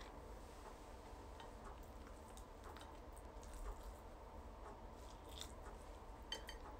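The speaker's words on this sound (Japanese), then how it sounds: "豆腐ハンバーグみたいなの食べよう。" A tofu hamburger patty studded with edamame being eaten, giving soft, moist squishy chews and small bites at close range, quiet and steady with no talking.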